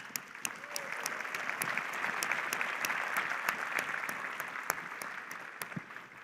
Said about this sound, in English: Let's give them a big round of applause for their impact and success.